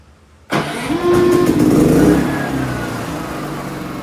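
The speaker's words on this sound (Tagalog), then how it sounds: "dapat mabubuhay na po sa yung ating generator na ito" PK7500i generator starting during a simulated power outage: quiet, then a sudden crank catching into a loud running engine that revs briefly and settles into a steady, slightly lower idle, close by.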